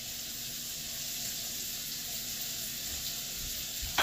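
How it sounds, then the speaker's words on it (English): Minced shallots sizzle in a hot pan as a steady, even hiss that holds at moderate loudness throughout, with no talking. "I'm going to stir those around a little bit."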